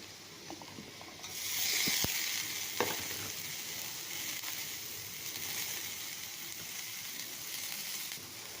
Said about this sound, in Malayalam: ആ പൊടിയുടെ പച്ചമണം മാറുന്ന വരെ ഒന്ന് ഇളക്കി കൊടുക്കാം